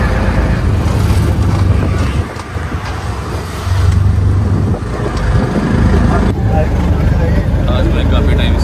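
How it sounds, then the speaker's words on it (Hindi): Auto rickshaw ride through Delhi traffic, a steady loud motor drone and road rumble with passing vehicle noise, while people talk over it throughout. "आज मैं काफी टाइम से के बाद में ऑटो वालों का राइड कर रहा हूँ"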